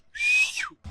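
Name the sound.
whistle blown at Jallikattu entrance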